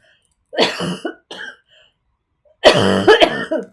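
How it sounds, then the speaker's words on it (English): Several harsh coughs in short clusters, close by, separated by brief silent pauses. "I'm gonna start coughing now"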